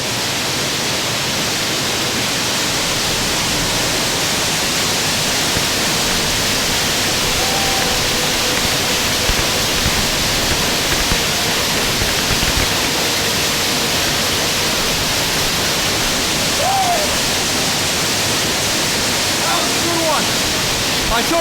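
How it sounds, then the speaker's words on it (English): A waterfall roars as a steady, loud, broadband rush that continues without a break, with faint voices barely audible beneath the water noise. "going under the waterfall and chanting a prayer or a thank you"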